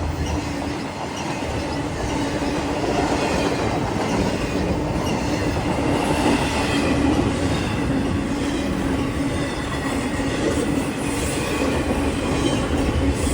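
A CSX freight train, I-025 southbound, rolls past close by at Hanson, Kentucky, with a steady loud rumble and rhythmic clickety-clack of wheels over rail joints, a faint wheel squeal riding on top throughout.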